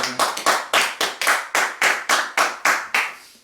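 A church congregation claps in unison during worship, a loud, close, steady rhythm of about a dozen sharp claps, roughly three per second, with no voices heard.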